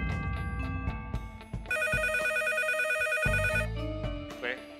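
A telephone rings on the stage of a Chinese televised dating show: a bright, steady electronic ringtone sounds for about two seconds in the middle, set against loud studio noise and background music.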